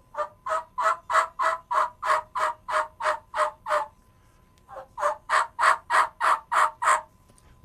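A turkey call imitates a hen's long assembly yelp. Two extended runs of rhythmic yelps, a dozen or so each, are separated by a brief pause. The sound is close and clear, with no speech.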